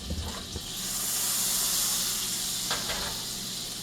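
Butter sizzles and hisses steadily in a hot cast iron skillet as chicken is being cooked, a bright continuous frying crackle that swells after a few soft clicks and holds close and even.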